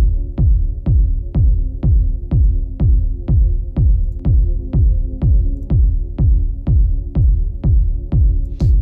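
A warm, deep techno synth pad run through a compressor pulses in a steady, loud rhythm, each swell thumping low and then fading, repeating evenly about twice a second with a sustained tonal hum underneath.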